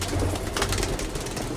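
Pigeons cooing at close range in an outdoor yard with goats nearby, soft low coos repeating steadily under a constant hum of background noise, no talking.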